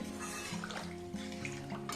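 Water pours steadily into a pan of curry for banana kofta, a continuous close splashing and gurgling with no one speaking.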